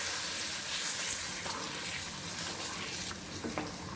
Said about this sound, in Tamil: மோரை ஊற்றிடுவோம்.